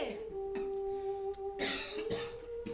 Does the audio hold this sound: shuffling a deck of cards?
no